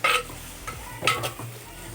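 Onions frying in a pan for a fish curry, a quiet sizzle broken by a couple of sharp spatula scrapes and stirs, no talking.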